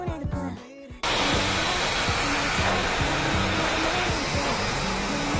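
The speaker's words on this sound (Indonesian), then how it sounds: "high speed hair dryer dari Lakier yang benar-benar canggih banget" A Lakier high-speed hair dryer switches on after a brief quieter moment and then blows with a loud, steady, close whooshing roar that continues to the end.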